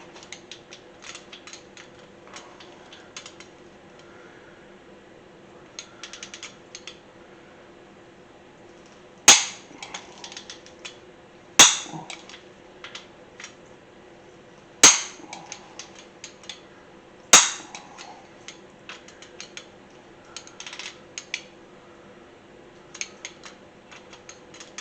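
A torque wrench clicks sharply four times as it tightens bolts during assembly of a small-block Chevy 307 engine, the crisp snaps spaced a few seconds apart over faint ratcheting and handling noise in a quiet shop.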